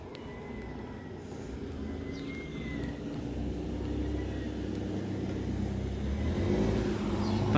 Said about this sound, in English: Nice car there, TT.